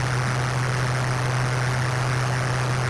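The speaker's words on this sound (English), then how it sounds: "All you should hear is the engine." An Intellivision video game plays a steady, droning electronic engine tone with a strong low hum, constant and unbroken, with no talking.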